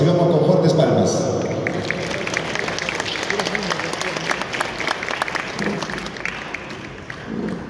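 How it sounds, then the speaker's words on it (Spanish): A conference audience applauds to welcome a PhD researcher to the stage, a dense wash of clapping that fades toward the end, with a voice beginning to speak beneath it. "recibamos con fuertes palmas"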